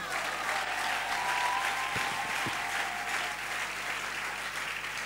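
A church congregation at a convention service applauds steadily, a dense, continuous wash of clapping and crowd noise at moderate distance, with a few low thumps partway through.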